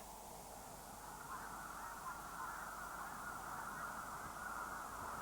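A dense flock of lesser snow geese honks continuously in the distance, hundreds of overlapping calls merging into a steady, noisy chorus.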